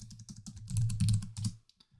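A file name typed on a computer keyboard: a quick run of close, crisp keystrokes in a steady rhythm, ending with a few sparse taps.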